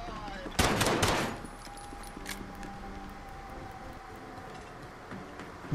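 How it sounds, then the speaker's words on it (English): Gunfire from a player's weapon in a video game: a short burst of rapid shots near the start, followed by quieter game ambience with faint tones and a few small clicks; voices are present. "But I am shooting"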